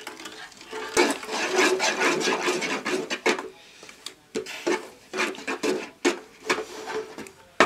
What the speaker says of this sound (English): add the corn flour to the seaweed mix while stirring